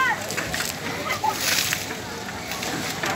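Children splashing water outdoors at a ladies race event, with continuous sloshing and splashing under lively voices and chatter throughout.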